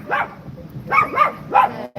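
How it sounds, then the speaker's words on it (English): A dog barks three times in quick bursts, close and fairly loud, each bark with a slightly whiny edge, alone without talk. "this dog over here"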